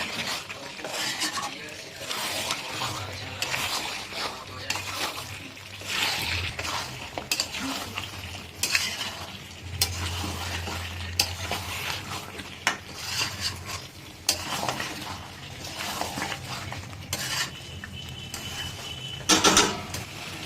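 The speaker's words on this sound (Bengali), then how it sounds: "এই টোটাল মানে চর্বি, কাঁচা আলু, এই টোটাল ব্যাপারটাকে একসাথে আমরা করে দিচ্ছি মিক্স" Mutton fat and raw potatoes being stirred together in a pan over high flame for Bengali mutton curry, with steady spatula scrapes and clanks against the pan over a low sizzle, close and continuous without talking.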